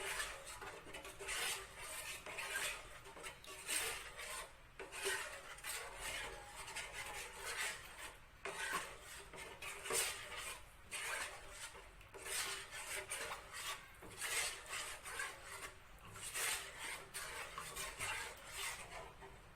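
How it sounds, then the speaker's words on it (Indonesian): A utensil scrapes and stirs steadily through thick cibay batter in a pot, a repetitive rasping rhythm, quiet and close, with no talking. "di sini harus diaduk terus ya guys, soalnya biar adonannya tidak rapat pada panci ini"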